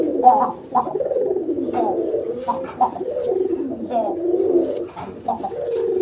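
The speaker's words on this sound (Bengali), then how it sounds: "নটটার ডাকটা কিন্তু একদম স্পষ্ট। গলার সাউন্ডটাও অনেক বেশি।" A male pigeon coos close by, giving a series of clear, throaty rolling calls with brief pauses between them and a few soft chirps in the background.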